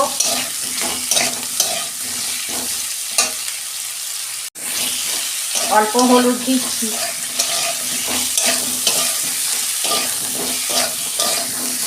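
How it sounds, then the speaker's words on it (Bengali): Potato and aubergine sizzle loudly in a hot pan with occasional stirring scrapes. The frying stays steady apart from a brief cut, and a voice speaks briefly over it. "বন্ধুরা, আলু বেগুনটা আমার তখন ভাজা হোক।"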